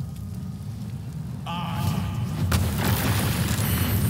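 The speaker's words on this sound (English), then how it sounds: "I'm thinking chromatic orb and make it fire." A fire chromatic orb spell in Baldur's Gate 3 lands with a deep rumbling boom that swells and then bursts into a loud, broad crackling impact, alone without talk.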